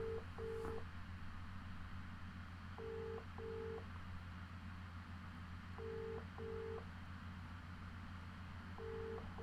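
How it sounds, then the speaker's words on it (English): Quiet telephone tones sound as a phone call rings out, paired beeps repeating about every three seconds over a low background hum. "Let me phone Big J back"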